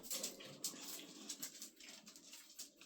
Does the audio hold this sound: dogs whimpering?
yes